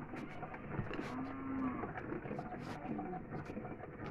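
A cow at a rural home mooing in a long, low drawn-out call, with a second, shorter lowing sound following, close by against a quiet background.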